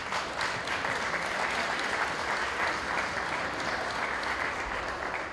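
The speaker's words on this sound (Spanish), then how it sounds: "Pido un aplauso para ellos, por favor." An audience at a Chilean club's national day celebration applauds a visiting folk group, with dense, continuous clapping from a sizable crowd held at an even level throughout.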